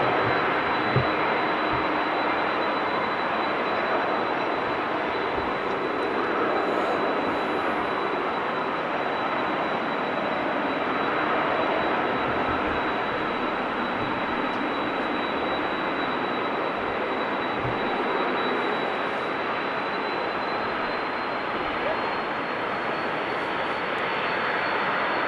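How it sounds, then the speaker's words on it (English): A Boeing 777 airliner taxiing bound for Delhi gives off a steady, loud jet engine whine with a thin high tone running through it, unbroken and without any voices. "there's actually a 777 taxiing"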